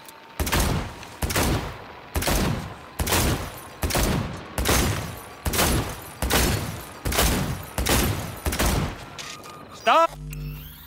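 Pistol fire in the video game Cyberpunk 2077: about nine loud, evenly spaced shots in a steady rhythm, with a short electronic whine and a final click at the end.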